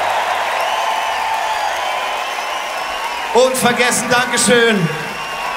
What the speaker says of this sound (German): Das ist euer Applaus, liebe Hanse-Mädchen